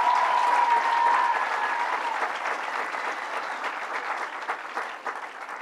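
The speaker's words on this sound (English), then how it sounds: "Let's give her a big round of applause." A crowd at a Governor Cuomo announcement in Monticello applauds a state senator, with dense, steady clapping held loud and close throughout, easing slightly toward the end.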